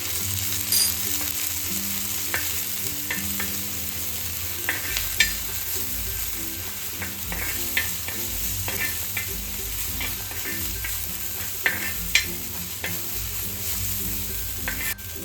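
Garlic and green chili coarse paste (thecha) fries in oil on a hot griddle, a steady sizzle with scattered stirring scrapes and clicks throughout, close and fairly loud, with no voices.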